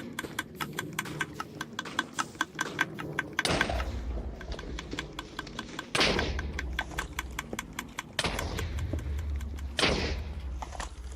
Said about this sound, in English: I'm gonna start exploding stuff